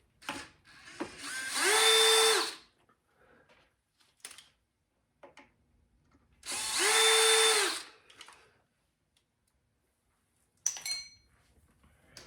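A power drill removes a screw from an engine's switch box in two loud, sustained whirring bursts, each lasting about a second, separated by quiet handling clicks and a brief metallic rattle near the end.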